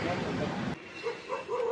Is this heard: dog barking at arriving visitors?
yes